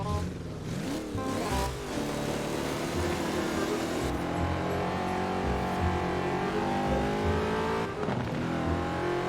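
A high-revving car engine with a four-speed gearbox in the Forza Horizon 4 racing game roars loudly and steadily, its pitch sweeping up and dropping through gear changes near the start and again near the end.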